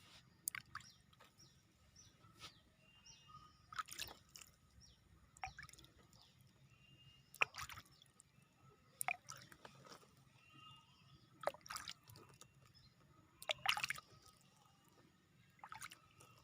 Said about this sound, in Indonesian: siram dengan air dengan cara disiprat-sipratkan seperti ini